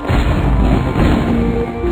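Fireworks bursting over the iceberg room in the online game Club Penguin Rewritten during its Festival of Lights event, a steady stream of muffled booms and crackles layered continuously at moderate loudness with no talk.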